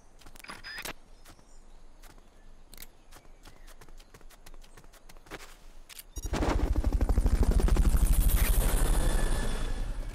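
A rescue helicopter in the video game Metal Gear Solid Peace Walker, during a Fulton recovery, roars in loud and close with a rapid, pulsing rotor thump, after several seconds of scattered sharp clicks and taps.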